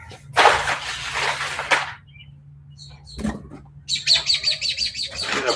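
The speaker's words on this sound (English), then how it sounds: "I got a bird on the side of the house that is like right over the garbage can" A bird chirps outside a house, with a burst of rustling noise first, a sharp snap midway, then a rapid series of bright chirps close by toward the end.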